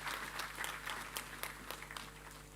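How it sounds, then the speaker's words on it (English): Audience applause at a Nigerian agro-industrial processing zones program launch event, a steady wash of clapping from a crowd indoors, moderately quiet and sustained throughout without speech over it. "Another round of applause"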